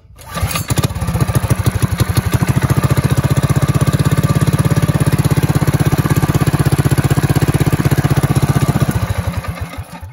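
A Predator 212cc small engine swapped into an ATV fires up at once and settles into a loud, close, rapid chugging run, then slows and tapers off at the end.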